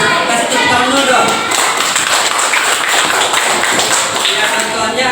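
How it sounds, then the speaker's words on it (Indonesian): Children in an Indonesian classroom lesson about fasting clap their hands together in a loud, close, continuous burst lasting several seconds. "Kasih tepuk tangan dulu dong."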